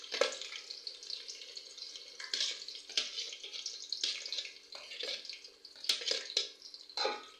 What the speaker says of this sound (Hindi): सबसे पहले मैंने इसमें प्याज डाल दी है।